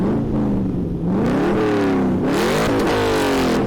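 A C5 Corvette V8 fitted with long tube headers revs up and down in loud, throaty surges, close and continuous with rising and falling pitch.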